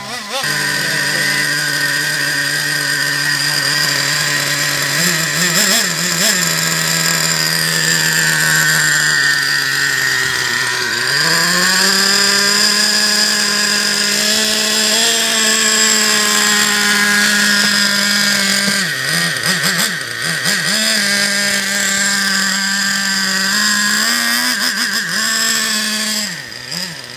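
A Traxxas Revo 3.3 nitro RC truck engine runs loud and close on a cold day, its buzzing whine rising and falling with throttle blips and sweeping revs throughout.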